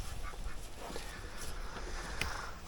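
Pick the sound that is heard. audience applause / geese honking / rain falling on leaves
geese honking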